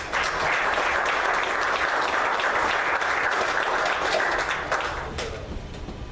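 A church congregation breaks into sustained applause during a sermon, dense many-handed clapping that holds steady for several seconds before tapering off slightly at the end.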